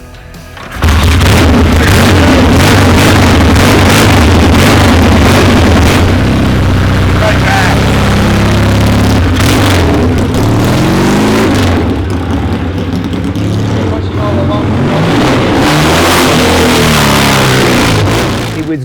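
A 1976 Triumph 750 five-speed motorcycle engine fires after a brief quiet moment and settles into a loud, steady rumble with repeated revs swelling and falling, voices talking over it now and then.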